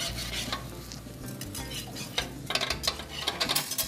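Pecans soaked in bourbon flaming in a pan give a steady sizzle and crackle, with stirring and scraping of utensils against the pan growing busier and louder toward the end.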